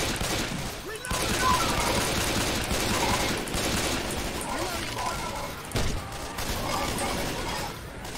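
Sustained bursts of gunfire and weapon mechanisms from the video game Left 4 Dead 2 rattle on through most of the clip, with players talking over the shooting.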